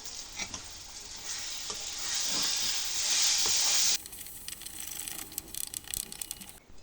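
Olive chutney with cardamom and ginger stirred in a pan, a steady close sizzle with scraping stirs that swells midway, then drops to a quieter crackle broken by sharp clinks of the spoon against the pan.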